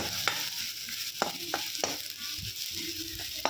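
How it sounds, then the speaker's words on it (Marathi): Turmeric and red chilli powder are stirred and fried into a cooked mixture for a dried-shrimp chutney, with a close crackling sizzle broken by several sharp spatula taps against the pan. "यात आता थोडी हळद त्यानंतर थोडं लाल तिखट व्यवस्थित मिक्स करून परतून घ्यायचं आहे"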